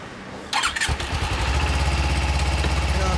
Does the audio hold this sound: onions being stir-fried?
no